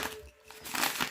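Oracle cards shuffled by hand, giving a soft papery crinkling and riffling with brief pauses, close and quiet.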